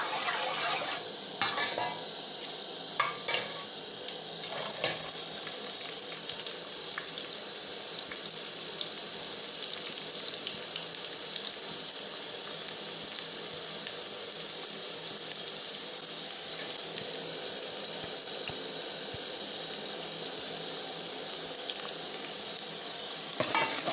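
Chopped onions fry in hot oil with a continuous, bright sizzle. A few clanks of a pot and utensil come near the start, then the hiss settles into an even, unbroken crackle.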